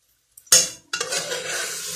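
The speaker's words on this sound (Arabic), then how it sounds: "احنا كده نشوح دي كويس" Chicken gizzards are sautéed in a pan: a sudden loud sizzling burst that drops, then a second burst of sizzling and stirring that stays steady, with a faint clink at the start.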